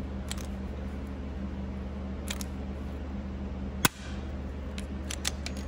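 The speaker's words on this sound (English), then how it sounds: "I do have my 1/8 bit on my rivet gun here. Go ahead and just a couple pumps" A hand rivet gun snaps once to set a rivet in a car door latch of an FD RX-7, a single sharp click standing out against a steady background hum, with a few faint ticks around it.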